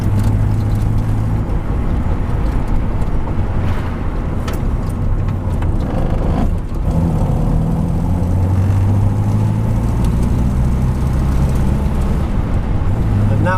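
A 1962 Morris Minor is driven, its engine droning loudly and steadily from inside the car with road rumble and shifts in pitch as it goes.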